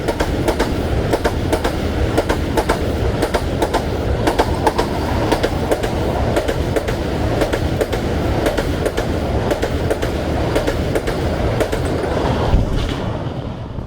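Vande Bharat Express train running on the Amb-Andaura to New Delhi line, a loud, steady rumble with regular clickety-clack beats of wheels over rail joints, close and continuous throughout.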